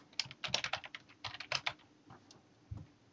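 Computer keyboard keys are pressed, including control and shift, in quick clustered bursts of crisp clicks with short pauses between them, close and alone.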